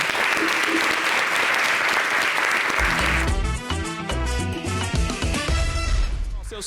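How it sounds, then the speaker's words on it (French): Audience applause at a French local TV summer show greets an arriving performer, a steady crowd clapping that gives way after about three seconds to loud music playing over it. "Je voudrais qu'on l'applaudisse."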